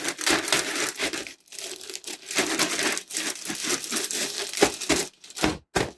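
Plastic crinkling and crackling up close as a bag is handled and folded, with a continuous rustle broken by sharp crisp snaps.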